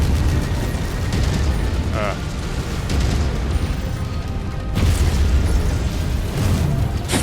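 MechWarrior 5 mech blowing apart as it is destroyed: a dense, loud game explosion and rumbling burst that surges near the end, mixed with constant battle noise and a voice speaking over it.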